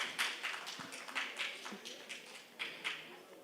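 Faint, scattered applause from a congress audience in New Delhi, a handful of separate claps tapping out irregularly with no voices over them.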